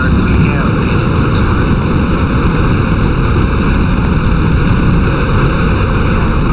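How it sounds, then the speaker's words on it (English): Space Shuttle Columbia's main engines igniting at the STS-1 launch: a loud, continuous, broadband roar that holds steady and dense throughout, with no gaps. "We have main engine start."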